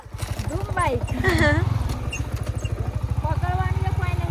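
A sport motorcycle's engine idles close by with a steady, rapid pulsing throb while several people talk over it.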